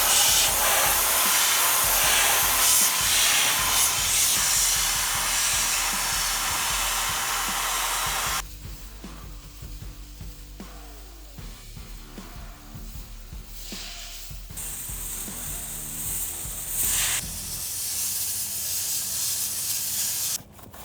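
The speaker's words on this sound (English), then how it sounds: "One of the most common and easy ways to clean your radiator is with an air gun." An air gun blasts compressed air through a tractor radiator, a loud continuous hiss that cuts off, then returns in shorter, uneven bursts of spraying air, with no talk over it.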